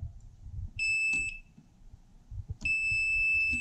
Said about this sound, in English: I call these guys sniffers, but it's a little voltage alert